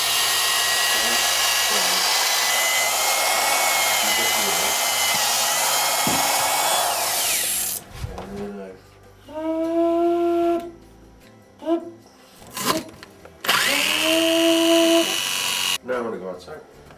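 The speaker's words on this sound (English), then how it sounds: "Drill it." A power drill whirring steadily, then several short bursts as it bores into balsa wood for a surfboard, loud and close, with someone talking between the bursts.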